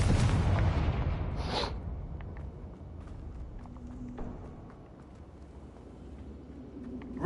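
Confringo explosive spell in Hogwarts Legacy goes off as one loud, rumbling blast at the start, then fades into a long, quiet tail with faint scattered noises.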